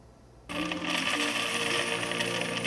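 Coins pour and clatter out of a heavy coin bag, a dense continuous metallic jingling that starts suddenly and stays loud and close throughout.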